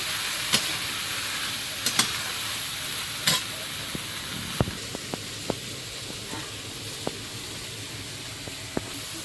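Shrimp frying in a pan with turmeric, a steady hiss and sizzle with scattered sharp pops and spatters from the oil at close range.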